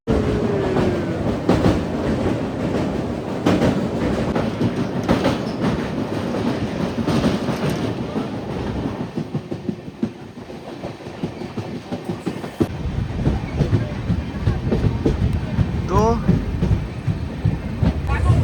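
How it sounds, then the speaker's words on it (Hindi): An Indian passenger train on the Delhi to Goa route runs on rails near Kota Junction, with continuous loud rumbling, rhythmic clickety-clack of wheels over joints and occasional squealing throughout, steady and close. "हमारी ट्रेन पहुंच रही है कोटा जंक्शन"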